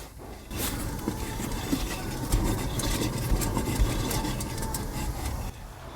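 A worn rear wheel bearing on a Subaru, heard as a continuous rough grinding hum while the wheel is spun by hand, steady and moderately loud for several seconds.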